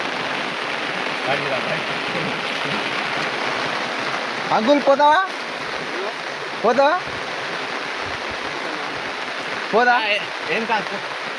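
Heavy rain pours down in India after three days of downpour, a loud, steady wash of noise with brief bursts of people talking over it.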